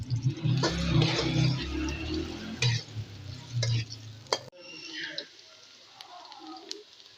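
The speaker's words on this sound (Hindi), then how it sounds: "सबसे पहले इसमें प्याज फ्राई करेंगे।" Chopped onions dropped into hot ghee for chicken pulao, sizzling and crackling loudly with stirring scrapes, then the frying settles to a quieter hiss near the end.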